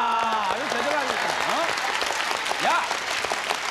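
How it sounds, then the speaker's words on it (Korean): Clapping from a small group in a comedy sketch, moderately loud and fairly steady, with voices talking and exclaiming over it. "야, 박수 좀 쳐줘."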